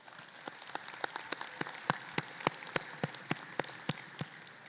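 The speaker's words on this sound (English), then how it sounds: "One more round of applause to our wind ensemble." At a high school commencement, a thin scattering of distinct claps sounds faintly and fairly distant, spaced in a loose, regular rhythm over a quiet background.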